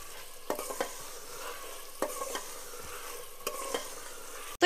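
Mutton keema with chopped green chillies frying in a pan, with a steady sizzle broken by a few distinct scraping stirs of a spoon at roughly regular intervals, close and clear with no voices.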